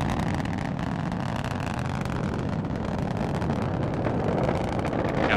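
The Delta IV Heavy rocket's three boosters roar during the Parker Solar Probe launch, producing a dense, unbroken, distant rumble with a wind-like broadband hiss that holds steady throughout and has no voices over it.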